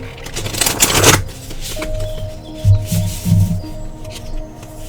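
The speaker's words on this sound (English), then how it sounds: "I just thought I'd shuffle anyway" Tarot cards being shuffled by hand, a papery riffling burst up front followed by softer rubbing and card handling at close range, with no talking.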